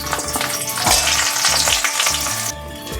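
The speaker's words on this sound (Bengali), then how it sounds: "এবার আমি বেগুনগুলো ভেজে নেব।" Eggplant pieces fry in oil for Bengali shukto, loud and close, a dense crackling sizzle with stirring, easing off sharply near the end.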